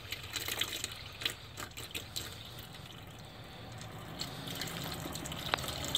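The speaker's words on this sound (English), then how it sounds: "this pipe still has coolant coming out of it" Coolant trickles and drips from a pipe on a 2011–2015 Chevy Cruze 1.8L engine: a faint, uneven liquid splatter with small drips, heard close against a low background rumble.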